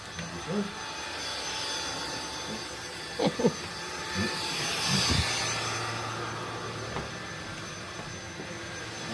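An INSE V120 cordless vacuum cleaner runs with a steady whirring drone through the whole stretch, broken by a few short knocks and clatters as it picks up debris.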